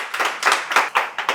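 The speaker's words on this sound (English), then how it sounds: "Let's clap it up for the success." Audience clapping at a live interview event, a short burst of several loud, uneven hand claps close by with no talking.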